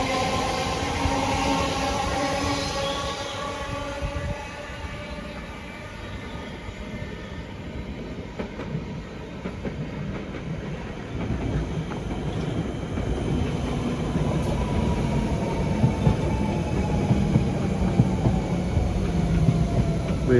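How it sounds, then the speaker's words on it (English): A London Underground 1992 stock train pulls into a station with a steady, rising rumble of wheels and motors over half a minute, with a faint whine and no talking. "And as that goes off, there's a 1992 stock pulling in."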